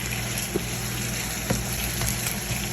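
Onions fry in oil for dhaba-style daal mash, a steady, even sizzling hiss close by with a few faint soft pops and no talking.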